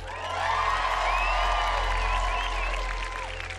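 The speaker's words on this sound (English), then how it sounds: "Give them a big round of applause." A big festival crowd at Pinkpop applauds and cheers, with whoops and shouts rising over steady clapping and a low rumble underneath, swelling and then fading.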